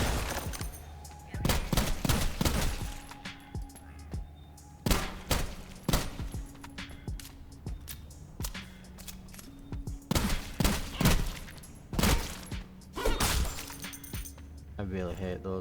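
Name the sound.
gunfire from the player's gun in the video game Sulfur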